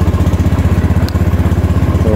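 Honda Beat scooter engine running just after an oil change, a close, steady rapid put-put idle with an even pulsing beat and no talk.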